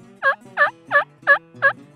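A wild turkey gobbler gobbles five times in a steady rhythm, each call loud, close and clear against a quiet background with no talking.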